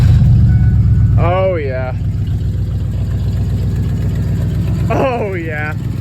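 Ford Explorer engine loud and steady at idle throughout, a low continuous rumble right after a coolant temperature sensor replacement, with someone speaking briefly over it twice.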